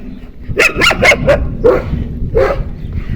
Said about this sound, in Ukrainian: Аж цілих три собаки.